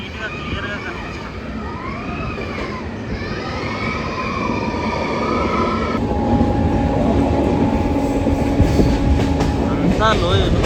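Kirandul passenger train rumbles through a tunnel with a continuous heavy roar and clatter that swells louder midway, with a horn-like tone entering, while people talk nearby.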